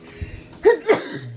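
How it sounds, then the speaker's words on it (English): A person sneezes inside a car, a single close, sharp burst after a short breathy buildup, with a faint engine rumble underneath. "I'm gonna sneeze."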